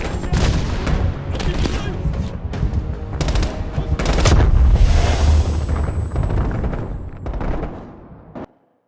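Heavy machine gun fire in the Call of Duty Black Ops Cold War video game, loud sustained bursts of rapid shots mixed with booming impacts and battle noise, ending abruptly.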